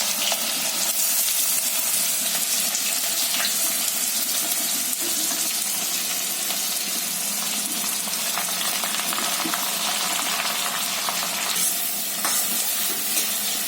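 Mustard seeds and cumin crackling in hot oil in a pan, a dense, steady close sizzle with scattered small pops running evenly throughout, no voices.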